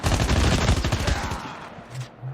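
Rapid automatic gunfire from the mobile shooter game Call of Duty Mobile, a dense burst of close shots for about a second and a half that then cuts off, with no talk.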